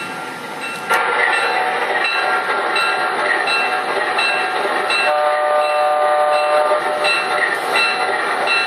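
A model train driven by a DCS Remote Commander throttle starts up with a loud, steady mechanical hum and a rumble, with high whistle-like tones sustained over it throughout.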